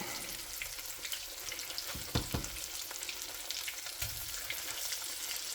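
Salmon cakes sizzle and fry steadily in a pan just after being flipped, a continuous bright crackle with a couple of brief clatters from the pan partway through.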